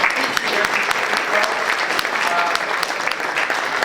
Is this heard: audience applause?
yes